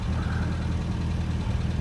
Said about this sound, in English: the idle is maintaining at 900 RPM